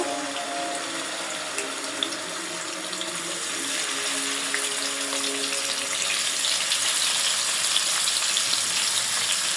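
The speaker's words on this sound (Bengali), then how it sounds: "আমি মাছগুলো প্রথমে ভাজিয়ে নেব" Loud, continuous hissing and crackling of rohu fish frying in oil in a pan, steady throughout and close, gradually growing a little more intense.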